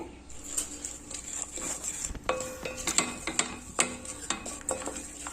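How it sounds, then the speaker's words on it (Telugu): A spoon clinks and scrapes in a metal pan as salt, garam masala and turmeric are mixed for Hyderabadi mirchi ka salan, sharp irregular knocks over a faint steady sizzle. "ఇవన్నీ ఒకసారి కలుపుకుందాం"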